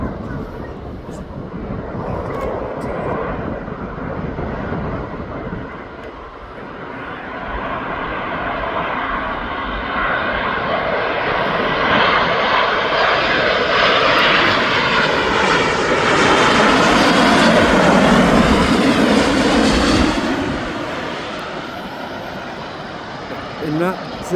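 Boeing 787 Dreamliner arriving at Birmingham Airport from Paphos, its engine roar building steadily into a loud, broad jet rumble that peaks as it passes near, then eases off, with a person talking faintly underneath.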